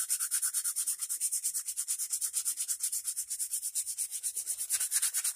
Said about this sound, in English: I'm going to hit this with some sandpaper, and we're going to smooth the whole thing up here